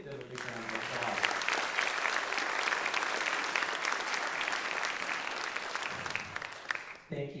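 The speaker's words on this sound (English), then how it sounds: "Let's give them a big round of applause." An audience at a concert applauds its board members with a sustained, loud round of clapping and cheering, and a voice speaks briefly at the start and again at the end.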